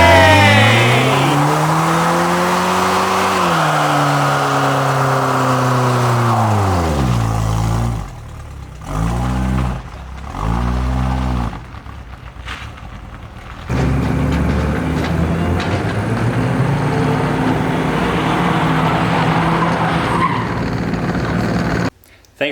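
A minivan with a welded differential does donuts, engine revving in rising and falling sweeps with tire squeal, loud and close, the engine note cutting out and returning.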